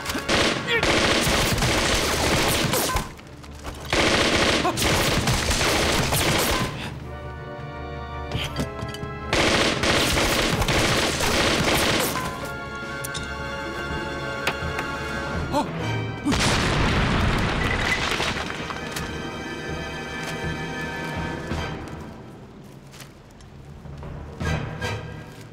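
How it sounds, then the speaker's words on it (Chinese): Sustained bursts of gunfire and heavy booming explosions from a wartime TV action drama come loud and close in repeated volleys, with short lulls between barrages. "爆炸声肯定惊动了其他人"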